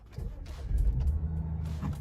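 A BMW 535i that has just had new spark plugs and an air filter fitted is started from inside the cabin. A low, fairly quiet engine rumble cranks and then settles into a steady idle.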